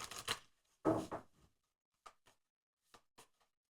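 Tarot and oracle cards being shuffled in a few short bursts: two fuller riffling sweeps followed by several quick, lighter taps and flicks, close and quiet with no talking.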